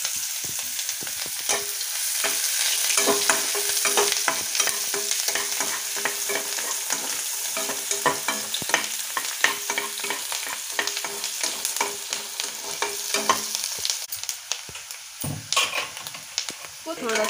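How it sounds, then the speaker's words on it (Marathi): Onion sautéing with curry leaves in a pan for poha: a continuous close crackling sizzle with frequent scraping stirs throughout, fairly loud and steady. "आधी कांदा चांगला लाल असा छान परतला ना त्याला चव येते"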